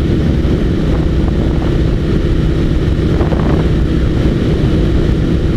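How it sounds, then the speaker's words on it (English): A Suzuki SV1000S motorcycle engine runs hard and steady up close, a rough low mechanical rumble with rattling piston-slap knocks under wind buffeting. "You can hear the piston slapping, protesting."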